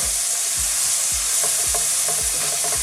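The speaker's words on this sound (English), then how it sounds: "So I'm just giving it a good mix now, then to all the spice to get mixed with the onions and everything properly." Onions stirred with Raja hot curry powder in a hot pan, with a steady sizzle under a regular rhythm of loud scraping strokes and no talking.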